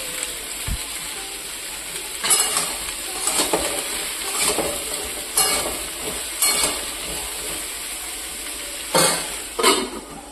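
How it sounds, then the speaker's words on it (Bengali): Young jackfruit fries in oil with a little salt, the steady crackling sizzle punctuated by repeated scraping stirs of a spatula against the pan, close and loud with no speech. "এই তেলেই আবার এঁচোড় ভেজে নিব"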